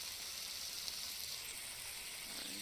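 Meat frying in a pan sizzles in a steady, dense, hissing crackle that holds at an even level throughout, close and unbroken by talk.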